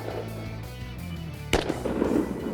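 A single sharp shot from a Walther PDP pistol at a shooting range, one loud crack partway through the clip with ringing afterward and a low background hum before it.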